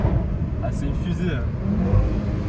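An Audi RS3 engine revs and pulls while driving, heard from inside the car as a loud, continuous rumble beneath people talking.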